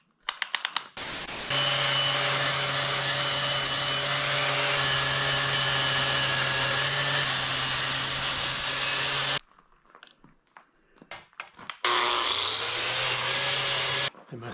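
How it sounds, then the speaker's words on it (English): A wire wheel grinds against a small axe head with a loud, steady motor whine for several seconds, then cuts off. After a short pause of faint handling noises, a shorter run spins up and winds down. "I know you don't have to wire wheel your axes, but I just like getting a nice clean finish."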